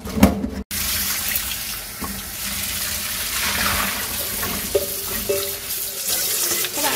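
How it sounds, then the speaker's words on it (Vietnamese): Tap water runs steadily into a basin while water spinach is rinsed for pickling, a continuous splashing hiss with a few light knocks of a basket or bowl. "Các bạn xả nước vào mình rửa sạch nhiều lần nhé."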